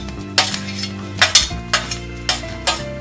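Onion hits a hot pan while Malvani chicken sukka masala is being cooked, giving a loud steady sizzle broken by bursts of stirring and scraping. No one speaks.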